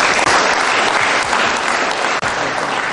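Sustained, dense applause fills a chess tournament closing ceremony, a loud, even wash of many hands clapping without pause.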